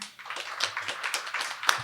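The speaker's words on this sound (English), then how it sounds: "I would love to give a round of applause to our planning committee" Audience applause for a planning committee at a community symposium, a fairly close, steady wash of clapping hands with one sharp clap standing out near the end.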